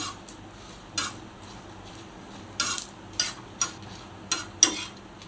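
Dried coconut and red chillies stir-roasted in a dry pan, with a spatula scraping and clicking against the metal in separate strokes every half second to a second, close up over faint background hiss.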